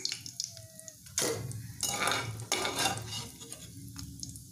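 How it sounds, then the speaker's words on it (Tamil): Dried red chilies frying in hot oil for a chutney, loud and close, with sharp bursts of sizzling and crackling that surge and ease over a low background bubble, no voices. "இப்போது நான் எடுத்து வச்சுருக்க வரமிளகாய் அதில் சேர்த்துக்கிறேன்."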